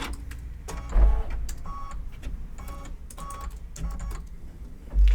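An embroidery machine stitches berries onto a garden flag, giving a clattering, irregular run of quick mechanical taps and whirs at close range with a couple of louder thumps.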